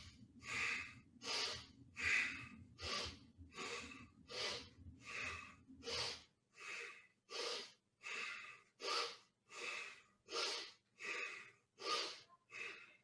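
Slow, steady breathing exercise with deep, audible inhales and exhales repeating in an even rhythm of roughly one breath per second, close and airy; a low background hum fades out halfway through.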